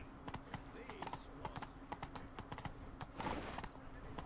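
Horse Roach's hooves clip-clop in a steady walking rhythm in the video game The Witcher 3: Wild Hunt, Blood and Wine, crisp and close, with a faint voice murmuring underneath and a brief louder burst near the end.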